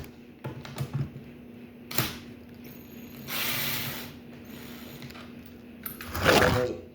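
Small metal screws being backed out with a hand screwdriver, giving a few scattered ratcheting clicks and brief rattles, close and fairly quiet, with a louder clatter near the end.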